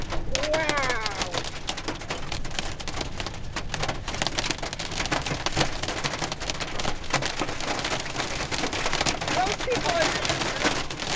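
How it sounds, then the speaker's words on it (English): A hailstorm driven by strong winds, with dense, hard pattering of hail pounding a surface and a roaring wind bed, loud and continuous while a person speaks briefly over it. "big pieces of hail coming. Chunks of ice. Pounding down. Really big hail."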